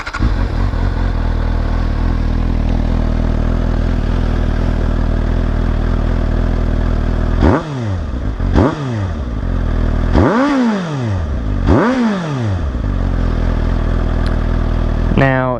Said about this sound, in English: it does sound good, in my opinion, and you can actually hear more of the air coming in the front with that baffle down